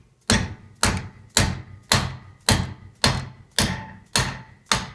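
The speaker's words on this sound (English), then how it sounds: "Tap it through with my dead blow." A dead blow hammer tapping a wrist pin through a connecting rod with a bushing, eight evenly spaced firm thuds at roughly two-thirds of a second apart, close and distinct, each ringing briefly.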